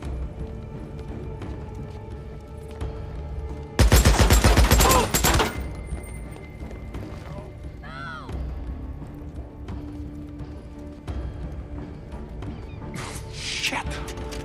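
Heavy gunfire in Days Gone erupts in a loud, dense burst of rapid shots lasting about a second and a half, then fades into quieter battle noise with a later distant rattle.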